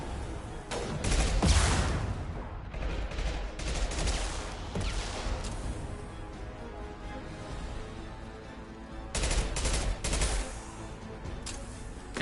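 Gunfire rings out in the video game Mass Effect Legendary Edition. Dense rapid shots and bursts run throughout, with louder clusters near the start and again toward the end, at moderate volume.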